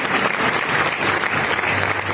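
An audience at a literature prize ceremony bursts into dense, sustained applause, many hands clapping together in a steady wash that fills the whole short stretch.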